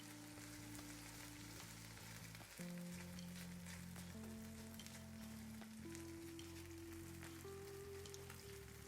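Cheese melting for frico crackles and sizzles steadily in a pan, a soft continuous fizz under a layer of background music, with no voices.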